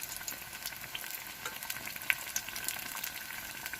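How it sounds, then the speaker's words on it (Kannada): Ridge gourd bajji fritters frying in hot oil over a medium flame, a steady dense sizzle with bubbling crackle throughout and a few sharper pops, close and alone with no voices. "ಗೋಲ್ಡನ್ ಬ್ರೌನ್ ಆಗೋ ಥರ ಕರ್ಕೋಬೇಕು"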